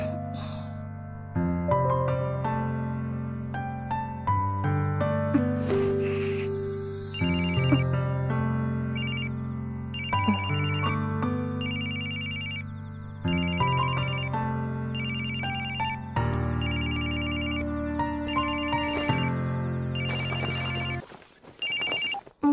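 A mobile phone rings with a bright, melodic electronic ringtone that repeats its tune steadily for over twenty seconds, clear and fairly close, with no voices over it.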